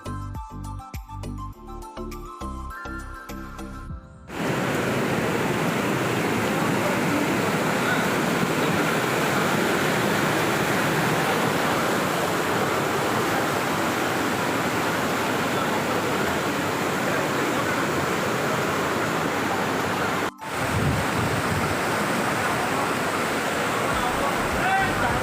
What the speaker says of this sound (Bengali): তো তোমরা তো শুনতেই পেলে পাহাড়ি ঝর্ণার শব্দ